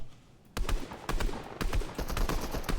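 Bursts of automatic gunfire in Fortnite Chapter 1, a series of sharp rapid shots in several volleys after a quiet start, loud and close with short gaps between bursts.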